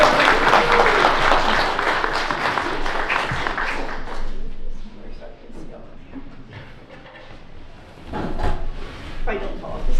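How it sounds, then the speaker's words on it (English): Meeting audience applause starts loud and dense, then thins out after a few seconds into scattered clapping and room shuffling, with a speaking voice and a knock or bump near the end. "And can we give Stephanie Gray a round of applause?"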